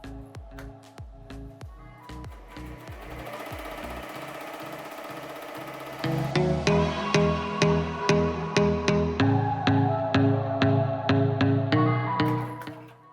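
An embroidery machine stitches a design, its needle hammering in a steady rapid rhythm with a mechanical whir, getting louder and heavier partway through before stopping, close and continuous with no talk.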